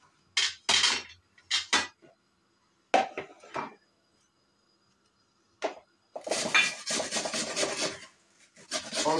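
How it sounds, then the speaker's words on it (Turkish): A dry onion rubbed against a metal grater makes rasping strokes in short separate bursts, then a longer run of quick, continuous grating close by. "Şöyle bir tane kuru soğan"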